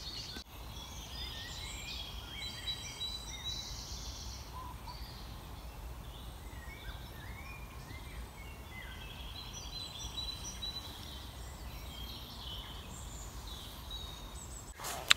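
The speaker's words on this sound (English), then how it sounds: "want to catch some bird song." Faint birdsong drifts in from a distance, scattered chirps and short trills over a soft, steady outdoor background hiss.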